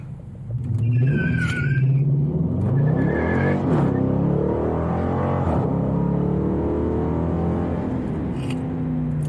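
A 2017 Dodge Challenger with a 5.7 HEMI V8 launching hard from a standstill, heard from inside the cabin: the deep engine roar swells quickly into a loud, sustained rumbling pull, with a couple of faint chime-like tones early on.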